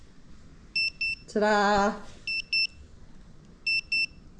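Short high electronic beeps in pairs from a moisture meter testing hardwood, repeating three times, with a brief spoken exclamation in the middle.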